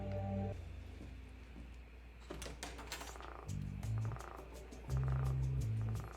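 A frog croaks in short, low, buzzy bursts within a TV drama scene, three or four separate croaks spaced over a few seconds against quiet background sound.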